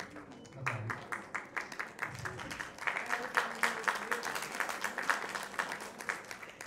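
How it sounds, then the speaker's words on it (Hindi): Steady audience applause at an award ceremony in India, an even wash of many hands clapping over a low hum, moderately distant and sustained throughout. "आपसे निवेदन तालियां बजाकर मनिंदर जी का हौसला अफजाई करें।"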